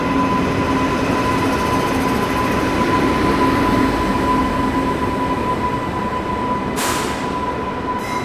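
The Kota–New Delhi Humsafar Express pulls into a station with a continuous rolling rumble and a steady tonal hum, then a short burst of hiss near the end.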